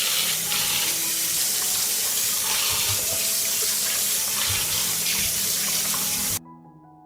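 A kitchen tap runs steadily and loudly while fresh tomatoes are rinsed beneath it, the stream splashing and gurgling against the fruit and sink before the water cuts off abruptly near the end.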